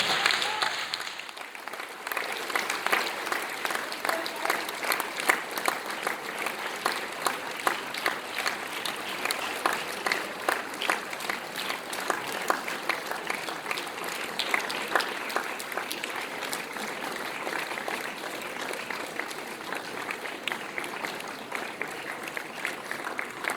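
Crowd at the 49th Shakes boys' final awards ceremony applauding volunteers on stage, a long, dense and even wave of clapping that starts abruptly and carries on without a break.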